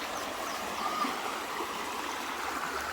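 River water flowing steadily at a farm, a continuous broadband rush like a stream or small waterfall, fairly close and even in level throughout with no speech.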